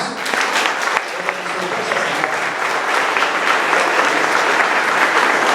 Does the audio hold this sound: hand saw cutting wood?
no